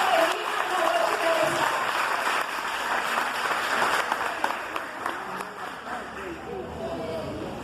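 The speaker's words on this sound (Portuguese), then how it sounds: "desse agora uma salva de palmas a Jesus" Congregation applauding Jesus at a large Christian worship event, a moderate wash of clapping mixed with crowd murmur and background music.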